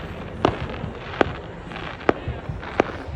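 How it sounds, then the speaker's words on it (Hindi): Firecrackers and fireworks go off at a street festa in Calafell: four sharp, separate bangs spaced about a second apart at middle distance, over a steady crowd murmur. "वहाँ पे भी बम फुट रहे हैं।"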